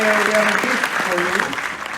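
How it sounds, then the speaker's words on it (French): Audience applause fills a Cinémathèque screening room during a masterclass, a dense steady clapping from a crowd, loud and close, with a voice speaking over it. "Applaudir."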